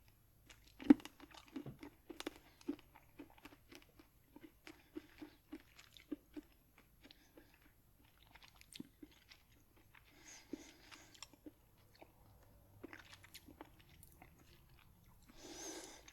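Close, quiet crunching and chewing of hard, crunchy-then-chewy lime gummy candy, steady rhythmic bites with occasional crinkles, no talking.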